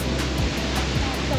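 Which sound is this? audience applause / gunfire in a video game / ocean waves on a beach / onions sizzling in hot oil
ocean waves on a beach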